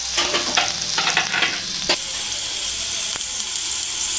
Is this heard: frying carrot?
yes